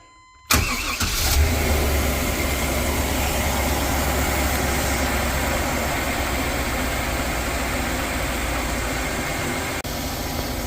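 A 2000 Chevrolet Express 2500 van with an oil leak starts up with a sharp burst, then drives down the road. A steady, loud engine drone and road rumble continue without break.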